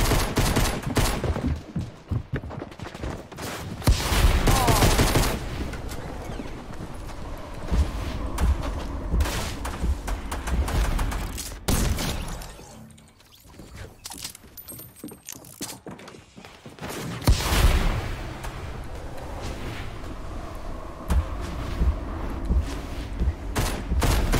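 A placed turret in a shooter video game fires rapid bursts of automatic gunfire, loud and nearly continuous, with a brief lull partway through before the shooting resumes.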